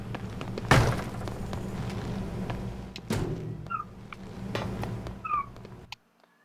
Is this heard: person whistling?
no